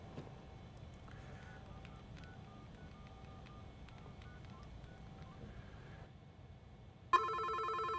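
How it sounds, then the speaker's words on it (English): A landline telephone rings for an incoming call, with soft repeated electronic ring tones over low background hum, ending in a sudden louder burst of ringing near the end. "So that's an incoming land call."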